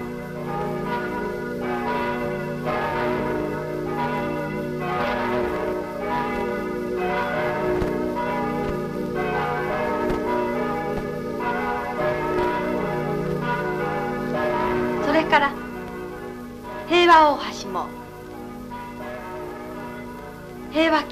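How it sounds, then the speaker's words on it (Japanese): Church bells ring over postwar Hiroshima, loud and resonant, with evenly spaced strokes whose long tones overlap into a continuous ringing peal, followed by a few clashing louder strikes near the end. "朝夕平和を訴える鐘が"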